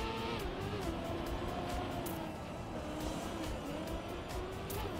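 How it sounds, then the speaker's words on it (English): A car in the Trackmania racing game whines at high revs while braking hard, its tires squealing in drawn-out, sliding tones over a continuous loud engine drone. "A lot of braking happening."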